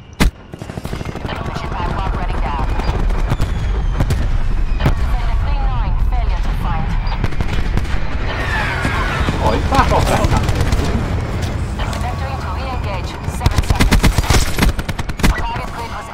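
Strafing run gunfire in Call of Duty: Black Ops 4 game audio, loud sustained bursts of rapid automatic fire with explosive booms, heaviest near the end, mixed with voices and radio chatter.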